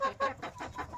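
A chicken or rooster kept with ducks, a quick series of about five short clucks in a steady rhythm, fairly faint and close, with no voices.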